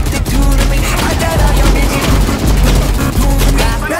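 Rapid, loud automatic gunfire rattles in the shooter game Valorant, with dense overlapping bursts of shots throughout and a few brief pauses.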